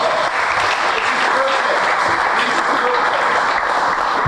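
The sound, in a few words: audience applause at a baseball reunion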